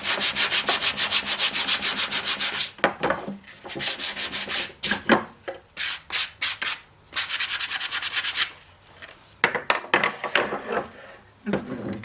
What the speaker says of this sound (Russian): Зачистим с помощью наждачки.